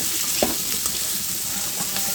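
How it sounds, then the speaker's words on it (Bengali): Onion and potato frying together in a pan, a close, even sizzle with a couple of light stirring scrapes over a short stretch. "পেঁয়াজটা দিয়ে সুন্দর করে ভেজে নেব আলুর সাথে"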